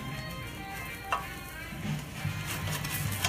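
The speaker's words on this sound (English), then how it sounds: "a lot of the minced garlic is kind of burning off there" Minced garlic frying in a pan, a steady close sizzle with scraping stir sounds and a few brief clinks, growing slightly louder toward the end; no talking.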